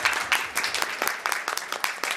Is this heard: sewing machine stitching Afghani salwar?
no